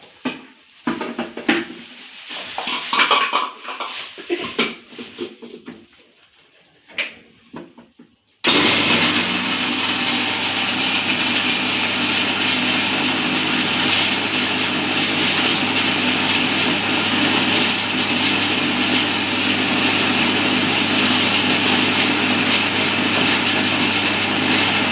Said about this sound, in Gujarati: મિક્સરના પવાલામાં છે ને ઝીણો મસ્ત ભૂકો કરી નાખી.